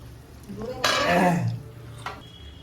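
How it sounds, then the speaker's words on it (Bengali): A metal lid lifted off a cooking pot during home cooking of chicken, a single clattering scrape and clink close by, followed by a soft hiss and a brief later clink. "ঢাকনাটা খুলছি।"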